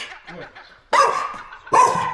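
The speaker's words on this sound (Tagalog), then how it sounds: "Kakatakot naman yung aso na yan." A dog barks twice outdoors at a house in Peterhead, Scotland, two loud sharp barks close by, with a faint voice and some quiet noise before them.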